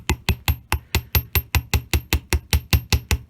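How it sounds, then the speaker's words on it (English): A chasing hammer taps metal wire on a pounding block to work-harden it, a fast, even series of about eighteen sharp, ringing strikes, close and loud. "I'm going to take a pounding block and a chasing hammer, and I'm actually just going to tap it."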